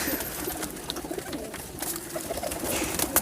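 Young pigeons cooing in a breeding loft of high-flying birds, soft continuous coos and bird calls at close range over a steady background, no talking.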